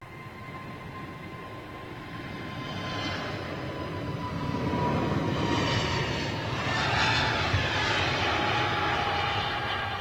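A distant airliner with CFM LEAP engines at London Heathrow Airport gives a broad, steady jet roar with a faint whine that slowly swells louder, heard alone without talk.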